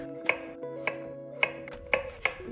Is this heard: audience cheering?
no